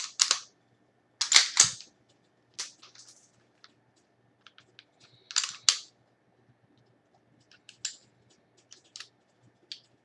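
A loaded concealed-carry pistol is unloaded and cleared, producing sharp, close metallic clicks and a quick rack-like burst in irregular bursts, with near-silence between them.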